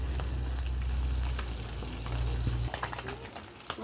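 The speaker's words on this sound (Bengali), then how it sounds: "মাছ ভাজি করে এখন তুলতাছি।" Fish frying in hot oil in a pan, a dense continuous sizzle up close that eases toward the end as pieces are lifted out, with light scraping clicks and no talk.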